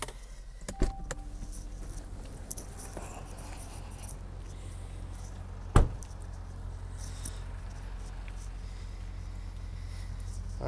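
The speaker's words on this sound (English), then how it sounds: "I meant to show you the fold mirrors. They'll fold in and fold back out." Power-folding side mirrors on a 2015 Hyundai Genesis 5.0 moving in and back out, a faint steady motor whir with two brief clicks, heard close under a quiet parked-car background.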